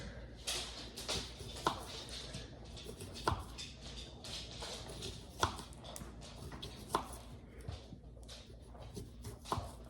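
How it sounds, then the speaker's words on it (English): Faint, sharp taps of a knife cutting through summer sausage onto a cutting board, several irregularly spaced chops over quiet kitchen background. "I'm gonna cut a couple slices of summer sausage."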